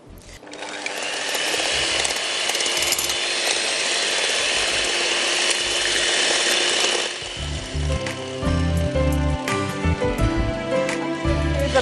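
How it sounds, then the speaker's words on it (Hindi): Electric mixer beating three eggs for chocolate cake batter, a steady close whirring drone for about seven seconds, then lower, uneven motor noise with clattering as the beaters shift in the bowl. "जरा अंडे बीट हो जाएंगे"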